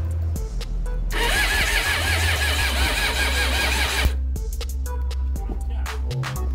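A stiff motorcycle engine that has sat unused for a long time being cranked over by the starter in a workshop during a restoration: a dense grinding crank burst of about three seconds, with clicks and low hum before and after.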